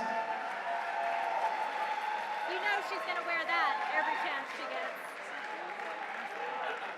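An audience applauds the women winners of the Yank-N-Yard 2019 climbing competition finals at a climbing gym, steady clapping and crowd noise running throughout while someone talks over it.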